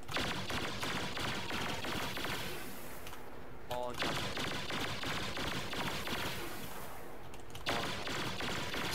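Rapid, dense bursts of gunfire from a video game aiming demonstration, firing continuously and loud with two brief pauses, as a voice talks over the shooting.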